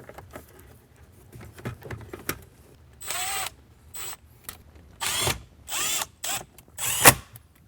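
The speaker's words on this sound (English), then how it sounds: "I'm gonna go ahead and screw the factory radio back in to its slot" A power driver screws the factory radio back into its dash slot in a 2018–2023 Jeep JL Wrangler, with a handful of short, loud whirring bursts and quiet handling noises between them.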